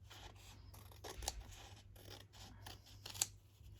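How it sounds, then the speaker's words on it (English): Scissors trimming paper edges flush while binding a journal, a few quiet snips with two sharper cuts, close but soft under a low steady hum, no talking. "we need to trim these edges off, so we'll cut that flush with"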